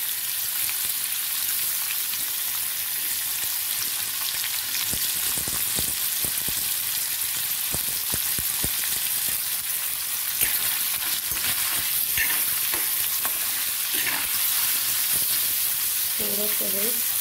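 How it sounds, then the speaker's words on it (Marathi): Paneer cubes shallow frying in oil in a pan, a constant close sizzle sustained throughout, with faint clinks near the end and no talking. "शॅलो फ्राय करायचे आहेत आपल्याला पनीर"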